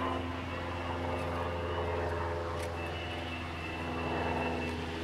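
A fixed-wing airplane drones steadily overhead for the whole stretch, a continuous broad engine rumble with a low hum, fairly even in loudness and without talk.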